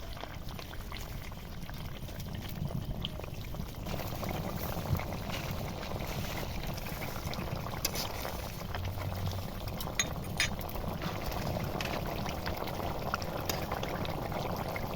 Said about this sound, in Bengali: পাঁপড় দিয়ে আরও 2 মিনিট ফোটাবো।